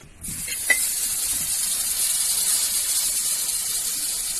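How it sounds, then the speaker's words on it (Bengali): Potatoes frying on an iron griddle over an outdoor clay stove, a loud continuous hiss that starts abruptly and holds steady, with a faint clink near the start. "আলু দিয়ে দিয়েছে ওই আলুটা ভাজা হবে"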